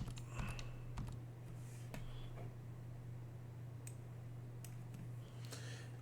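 Rapid, light key clicks from a computer keyboard in an irregular typing rhythm, close and fairly quiet over a steady low electrical hum.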